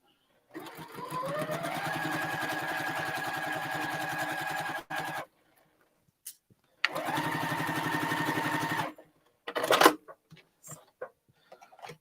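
Sewing machine stitching fabric squares together in two steady runs of rapid, even needle chatter, close and fairly loud, separated by brief pauses and followed by a few short bursts and clicks.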